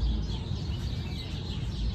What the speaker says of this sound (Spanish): los pajaritos de Dios te están cantando